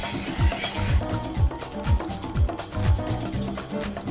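A spoon stirs a sauce after a teaspoon each of soy sauce and Worcestershire sauce goes in, scraping in a steady rhythm of about eight strokes over a faint background sizzle, close and moderately loud.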